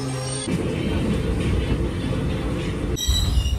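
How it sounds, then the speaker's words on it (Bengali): A train rumbles loudly and steadily with grinding wheel and rail noise, close by, a brief squeal near the end. "এসে গেছে ট্রেন, উঠে পড়ি।"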